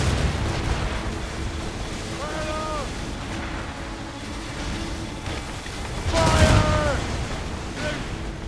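Heavy ship cannons boom in Assassin's Creed Rogue's naval combat, a dense rumbling barrage swelling loudest near the end amid sea and battle noise, with a voice calling out over it.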